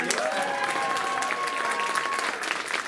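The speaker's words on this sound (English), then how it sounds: "One more big round of applause." Audience applause at an arts hall of fame induction ceremony, a steady dense wash of clapping filling the hall for about three seconds, with a faint sustained tone running underneath.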